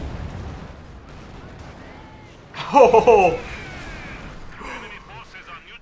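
Tank blown up in the real-time strategy game Company of Heroes 2: a loud booming blast with rumbling debris that rises out of quieter battle noise and fades over a couple of seconds, with an excited voice exclaiming over it.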